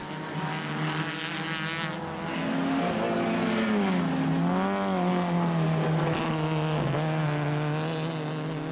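A Peugeot 106 race car, number 203, laps Dracon Circuit in a 2013 race, its engine droning loud and close with a steady high whine that rises and falls as it shifts and passes.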